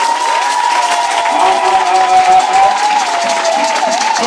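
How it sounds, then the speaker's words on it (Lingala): A church congregation at a Sunday worship service claps and cheers loudly together, a dense, sustained roar of applause and shouting voices that fills the space steadily from start to finish. "Est-ce que tu peux acclamer pour Dieu?"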